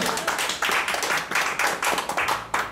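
Wedding guests clapping during a church wedding ceremony, a burst of uneven hand claps in quick irregular rhythm, fairly close, with no talk.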